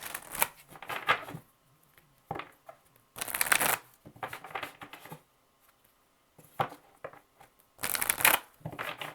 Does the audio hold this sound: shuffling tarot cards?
yes